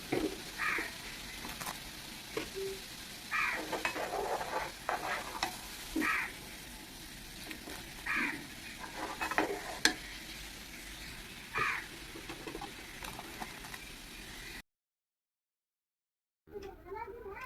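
Hand-cut semai pitha go into boiling milk sweetened with date-palm jaggery, with soft stirring and scraping sounds, a faint steady bubble and sizzle, and occasional clinks in a quiet kitchen, ending in a short silence.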